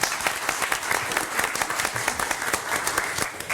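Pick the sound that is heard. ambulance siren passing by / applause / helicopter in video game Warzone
applause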